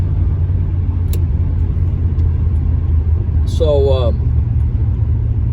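A 1987 Monte Carlo with a 350 turbo transmission drives along, its engine a steady low rumble heard from inside the car while a voice speaks briefly.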